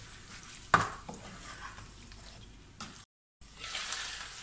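Spoon stirring ground cumin and spices into potato stock in a cooking pot, with a sharp clink against the pot near the start, then soft scraping and liquid swishes, a brief dropout, and a faint steady hiss.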